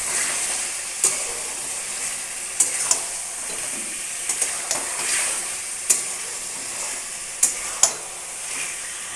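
Potato pieces fry in hot oil for a Bengali chicken curry, a constant bright sizzle broken by sharp scrapes and knocks as a spoon stirs them around the pan, with no voices.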